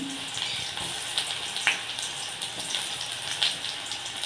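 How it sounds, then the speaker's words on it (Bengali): Chopped onion fries in hot oil with a steady, moderately quiet sizzle and scattered small crackles and pops throughout. "তেলটা আমার গরম হয়ে গিয়েছে, এর মধ্যে আমি ছোট একটা পেঁয়াজের কুচি দিয়ে দিলাম।"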